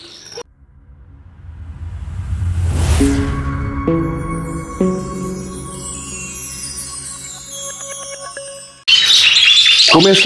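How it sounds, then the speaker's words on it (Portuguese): Gouldian finches and other exotic birds chirp in a pet shop, with bright repeated tweets and short calls over a low background hum, ending in a burst of busier, louder chatter. "Começando aqui por ninguém menos que Diamante de Gold, um dos passeriformes mais queridos desse planeta"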